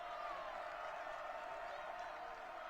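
A crowd at a boys' high school state basketball game between Sidney and Concordia makes a steady, diffuse roar of cheering, heard at a distance and fairly faint without a break.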